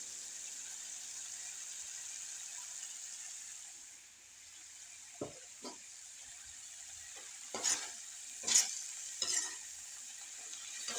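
Curry leaves sizzle steadily in sesame oil in a pan, with several distinct clatters of a spoon stirring and scraping in the second half; no one talks.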